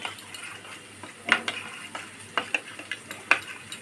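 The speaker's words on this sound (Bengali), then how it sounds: "সর্ষের তেল দিয়ে আমি একটু ভালোভাবে নেড়ে চেড়ে একটা মশলা বানিয়ে নেব" Spice paste of chili powder being stirred with mustard oil in a pan for a spicy dry-cooked meat dish, with soft scraping and clicking strokes repeating at an uneven rhythm, close and moderately quiet.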